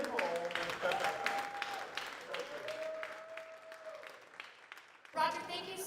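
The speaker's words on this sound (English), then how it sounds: "Big round of applause, everybody." Audience applause after a talk on industrial hemp at a cannabis science pub evening, a dense patter of clapping mixed with a couple of sustained tones and room noise, with voices in the room.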